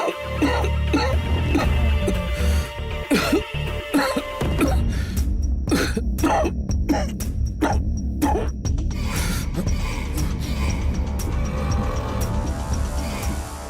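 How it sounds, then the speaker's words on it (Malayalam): A man coughs and clears his throat repeatedly, close and loud, in harsh irregular bursts within an indoor drama scene, with a dog barking and some background noise. "അയാൾ അവിടെ കുറച്ച് നേരമായിട്ട് ചുമച്ചുകൊണ്ടിരിക്കുന്നുണ്ട്"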